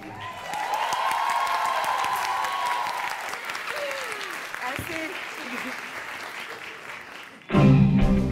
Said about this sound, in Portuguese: Palmas para a noiva!